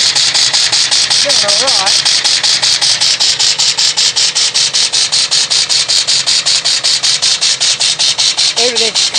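A Briggs and Stratton engine running on live steam chuffs in a fast, even rhythm of loud, close exhaust beats, with loose parts rattling, while someone talks over it.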